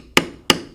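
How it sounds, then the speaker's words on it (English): A B702 leather beveler is struck with a mallet while beveling carved leather around a buffalo head design, giving three sharp, close taps at an even rhythm. "I'm using a B702 beveler to bevel around the outside of the horns"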